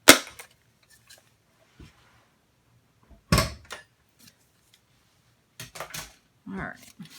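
A mini embossing machine is closed with a few sharp plastic snaps and clacks, loud and close, separated by quiet gaps, with brief talking between them.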